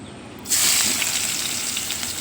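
Onions drop into hot oil in a kadai and burst into a loud, steady sizzle that starts abruptly partway through and keeps hissing evenly to the end, with no voices.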